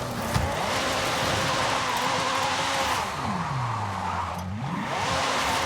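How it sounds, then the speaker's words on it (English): Car engine in the Forza Horizon 5 video game, a continuous loud drone with pitch rising and falling as it revs and eases off, dipping low and climbing again near the end. "Do I need to turn the car sounds down a little more?"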